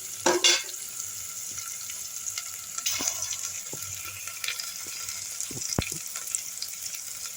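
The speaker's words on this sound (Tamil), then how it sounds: "வெங்காயம் நல்லா வதங்கிட்டேங்க" Onions sauté in a pan for street-stall style vada curry, giving a soft, steady frying hiss at low level. Occasional spoon scrapes and light knocks against the pan punctuate it.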